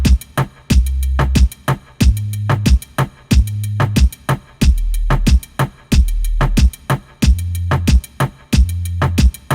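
Percussion layer in a reggaeton-style drum beat, made in Studio One 4: punchy repeating hits with a deep low thump in a bouncy, metronome-like pattern, loud and on its own.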